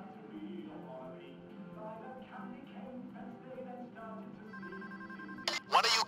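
A telephone rings inside a bank during a Payday heist game, a short burst of bright electronic ringing near the end, over a steady bed of game music and ambience.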